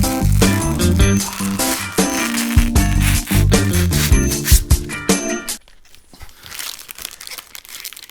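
Plastic packaging crinkles and rustles loudly and close while a Samsung Odyssey G9 monitor is unboxed, with dense, continuous crackling and a few sharp clattery bits, then falling to faint scattered rustles near the end.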